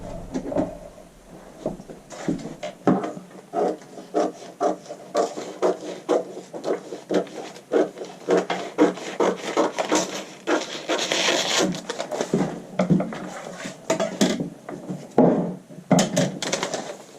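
Paper being trimmed for a jacket interfacing pattern, a rapid series of crisp cutting snips and rustles repeating steadily at close range, no talk.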